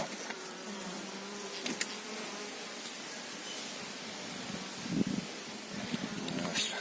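A swarm of honeybees caught in a bait trap makes a steady, fairly faint buzzing hum, mixed with light rustling and a few soft knocks.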